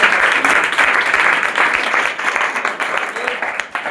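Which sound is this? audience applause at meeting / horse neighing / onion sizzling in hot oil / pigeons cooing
audience applause at meeting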